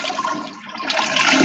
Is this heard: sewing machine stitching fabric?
no